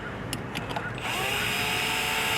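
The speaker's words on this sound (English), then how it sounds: "You're going to drill your 2 pilot holes." A few quick clicks and short bursts, then an angled power drill spins up and runs steadily at high speed drilling pilot holes in a 2023-2024 Acura RDX, loud and close.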